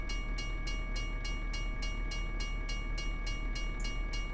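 A train passing a level crossing in the Euro Truck Simulator 2 driving game, a steady rumble with rhythmic clickety-clack wheel beats repeating evenly and a constant tonal hum, heard alone without talk.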